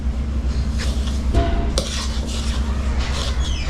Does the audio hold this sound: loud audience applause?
no